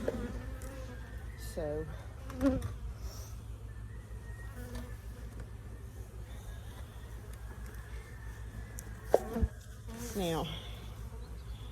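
Honeybees buzzing around an open hive during a spring inspection in southeast Alabama, a constant close insect hum with individual bees droning past, while someone talks over it.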